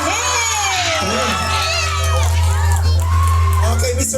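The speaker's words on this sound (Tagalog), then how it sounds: "Pwede ba nga sa malakas ang balakpakan ng may kasamang sigawan?" A village crowd in Barangay San Fernando erupts in loud cheering and shouting at an evening event, with clapping mixed in and excited voices and whoops rising over a steady low hum.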